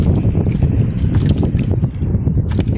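Strong wind blows across the open sea during a fishing trip with triple nets, a continuous loud low roar buffeting the microphone, with faint water and boat sounds underneath.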